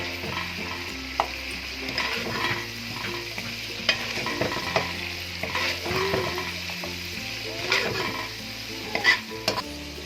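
Chicken karahi in the Shinwari style frying in a pan, a continuous close sizzle with repeated metal scrapes and clinks of a spatula stirring, no voices over it.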